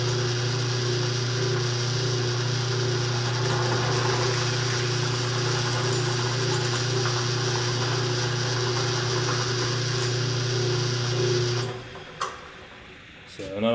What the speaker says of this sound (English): run the reamer at a pretty low speed and just do this by hand